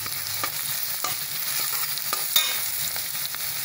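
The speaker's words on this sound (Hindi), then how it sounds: "लहसुन को भी मैंने डाल दिया है, उसको भी मैं चला लेती हूँ।" Garlic and whole dried chillies frying in oil in a pan for baingan bharta, a steady close sizzle with soft scraping clicks as a spoon stirs through it, no voices.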